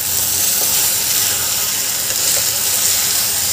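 Rice being dry-roasted and turned in a pan for Marathi green-pea masale bhat, giving a steady, close hiss-like sizzle with faint scraping that runs unbroken throughout, with no voices.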